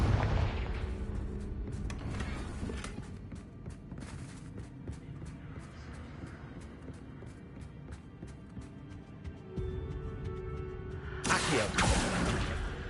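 The Confringo fire-blast spell is cast repeatedly in the video game Hogwarts Legacy, producing booming, explosive bursts and whooshes over a dense game soundscape, with a louder blast near the end.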